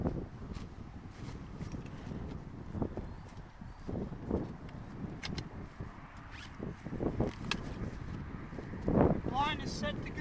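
A zipper is drawn shut on the door of a Migrators Strait Stealth hunting blind in brief rasping pulls outdoors, with wind buffeting the microphone and someone speaking in between.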